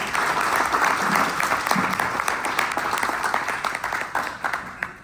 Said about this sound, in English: Let's give Carol a round of applause.